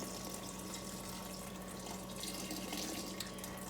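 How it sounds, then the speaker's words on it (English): Chicken broth poured from a carton into a pot of sautéed mushrooms for cream of mushroom soup, a steady close liquid splash and gurgle running evenly throughout. "So I'm just going to pour this all the way in."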